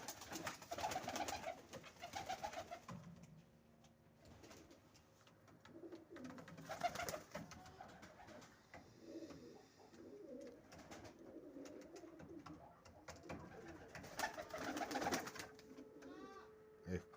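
Wide-tailed tumbler pigeons coo repeatedly in soft, throaty rolls close by, with rustling and occasional low voices in the background.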